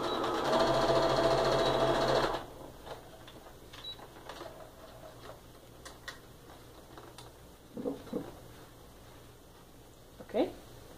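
A sewing machine stitches quilt fabric for a freight-train quilt block, a loud steady whir for about two seconds before it stops, followed by faint handling noises and brief quiet talk.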